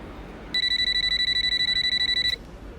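Answering machine beep: a single steady electronic tone lasting under two seconds, loud and close, with quiet before and after.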